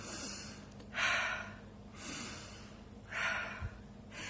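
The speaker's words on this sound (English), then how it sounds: "I need to take a deep breath. I need to take some breaths." Two slow, deep breaths, each a long airy inhale followed by a softer exhale, close and quiet with no talking.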